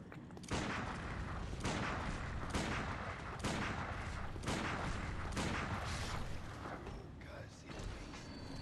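Gunshots in Bloodborne during a Central Yharnam fight, a series of sharp, loud blasts spaced about a second apart, with a voice talking over them.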